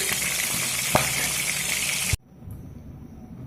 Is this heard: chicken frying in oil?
yes